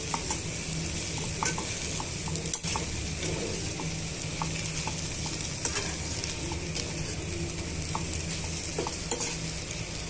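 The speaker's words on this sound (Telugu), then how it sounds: "ఇవన్నీ కూడా బాగా వేయించేసుకుంటాము" Spices with asafoetida frying and being stirred in a pan for pickle, a steady close sizzle with scattered scraping clicks of a spoon against the pan throughout, no talk.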